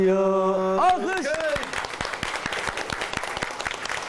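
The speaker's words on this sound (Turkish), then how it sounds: "Alkış." A singer's sustained note ends and gives way to scattered, then thickening audience applause after a folk song, the claps sharp and close, with some voices in the crowd.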